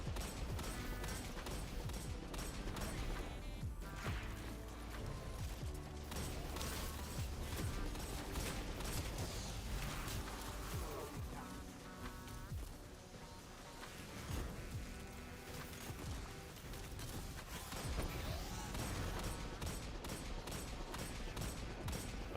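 Enemy barrage fire in the video game Destiny 2, a dense continuous volley of rapid gunshots and mechanical weapon noise at loud, steady intensity throughout, with no clear talk.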